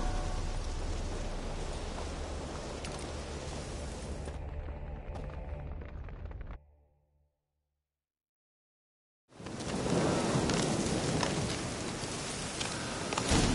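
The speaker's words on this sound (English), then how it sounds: "Looks like rain." Steady rain pours with low rumbling in The Witcher 3, loud and constant, then cuts to near silence for a few seconds before a heavy downpour resumes just as loud.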